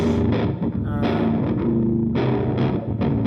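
A gritty, crunchy bit-crusher effect on a Line 6 Helix over a drum-and-synth pattern from a Novation Circuit, loud and continuous with choppy bursts.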